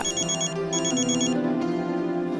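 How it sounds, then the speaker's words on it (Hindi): A mobile phone ringtone plays a repeating electronic melody, loud and close, with no talking over it. "मम्मी का फोन है, फोन उठा लो।"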